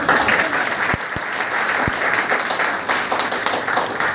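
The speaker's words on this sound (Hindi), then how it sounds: "पहले अरुण के लिए तालियां बजा दो।" Audience applause for Arun at an SSC GD coaching session, a dense burst of many hands clapping that continues steadily throughout, with a few sharper isolated claps standing out.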